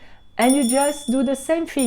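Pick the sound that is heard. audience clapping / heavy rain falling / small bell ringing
small bell ringing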